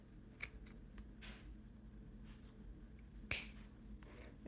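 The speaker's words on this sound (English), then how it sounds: "take your scissors, go under the tape in front of your thumb" Scissors snip through kinesiology tape on a thumb wrapped for De Quervain's tendonitis, giving a few faint, sharp clicks and one louder crisp snip in an otherwise quiet room.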